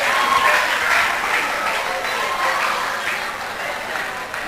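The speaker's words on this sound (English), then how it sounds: "Clap, come on, clap" A crowd claps in dense, sustained applause that stays loud and steady throughout, with voices faintly mixed in.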